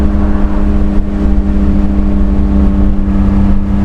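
Honda Beat, a tiny Japanese-market car, cruising in 5th gear at 80 km/h just over 4,000 RPM: a steady, loud droning engine hum with an even road rumble, no talk.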